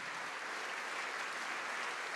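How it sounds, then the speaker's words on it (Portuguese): A church congregation applauding together, a dense, steady wash of clapping that carries evenly throughout without pause. "Vamos aplaudir."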